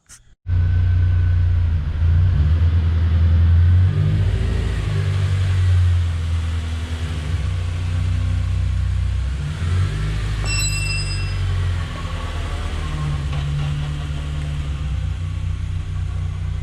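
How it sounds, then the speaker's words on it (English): A Honda Civic EP3 with newly finished suspension pulls out and drives down a street, a loud, close, steady engine rumble that rises and eases as it accelerates, with no voices. "just by taking it out of the garage and going a little rip down the street"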